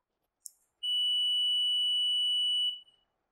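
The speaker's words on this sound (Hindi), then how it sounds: "तो इसमें कंटिन्यूटी की आवाज सुनाई देती है, ये कंटिन्यूटी की आवाज आ रही है" A digital multimeter in continuity mode, probes touched together while testing a loudspeaker ringer, gives a short click and then one steady, clean high-pitched beep lasting about two seconds before cutting off in a quiet room.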